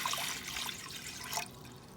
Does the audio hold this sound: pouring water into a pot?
yes